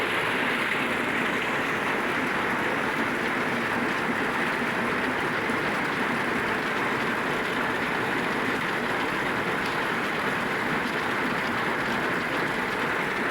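Heavy typhoon rain and strong wind batter a hut in the Philippines during Typhoon Ondoy, a dense, steady roar of downpour and gusts that holds at one loud level throughout with no voices.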